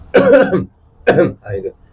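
Two short, close coughs or throat-clearing sounds, a rough burst followed by a second split one, in a quiet room.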